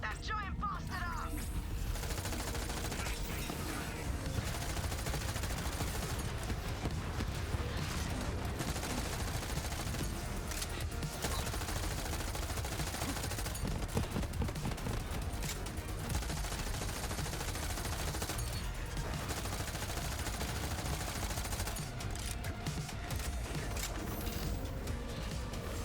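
Rapid gunfire in Borderlands 3 rattles continuously in bursts over a dense mix of game effects and explosions, loud and busy across the whole stretch.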